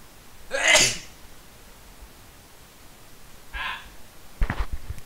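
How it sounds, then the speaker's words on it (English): A single loud, sharp human sneeze bursts out near the start, followed by quieter rustling and a couple of softer breathy noises toward the end, with no talking. "I think I might sneeze."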